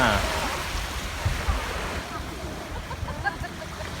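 Sea waves wash along the shore at Pattaya in a steady, moderate surf wash with some wind, a little louder at the start.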